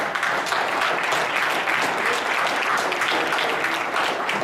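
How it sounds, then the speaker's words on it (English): An audience at a club meeting applauds its area governors, a short burst of dense, even clapping lasting a few seconds. "Let's give applause for our area governors."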